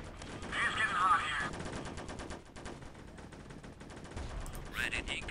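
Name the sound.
gunfire in a war video game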